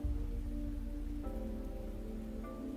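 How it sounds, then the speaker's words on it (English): Soft, slow rainfall in the Fantasian Neo Dimension game, a steady continuous wash with gentle tonal music layered over it, no speech. "At some point, the rain began to fall once more."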